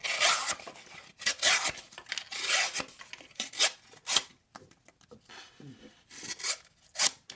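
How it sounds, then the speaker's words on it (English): Flat-ground M390 steel blade of a Kubey Decimal knife slicing through single-wall cardboard, giving repeated rasping, scraping strokes in bursts with brief pauses, close and moderately loud, no voices. "Let's do a quick piece of cardboard here, single wall cardboard"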